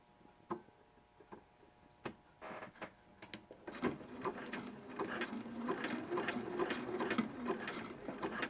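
Sewing machine running a wide zigzag stitch in a class setting, starting with a few isolated clicks and taps, then settling into a rapid, steady rattling stitch rhythm up close.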